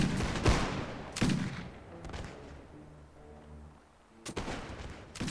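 Musket volleys traded in a Mount & Blade Warband battle: a few sharp, fairly distant reports early on, then rumbling low background, and another crack near the end.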